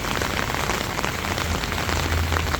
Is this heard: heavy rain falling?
yes